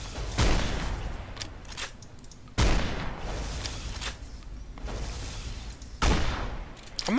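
Gunfire in Fallout: New Vegas, three heavy booming shots spaced a few seconds apart, each trailing into a rumbling echo over a continuous battle din.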